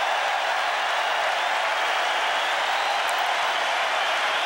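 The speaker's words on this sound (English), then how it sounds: "A standing ovation for both players." Dense, steady applause from a stadium crowd giving a standing ovation to both players, Pete Sampras and Andre Agassi, after a US Open tennis match, loud and unbroken throughout with no talk.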